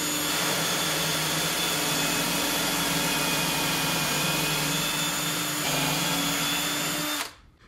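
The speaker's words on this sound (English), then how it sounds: "put the drill bit in," A power drill bores dowel holes into a wood board with a loud, steady whine that runs for about seven seconds, dips briefly in pitch, then stops abruptly.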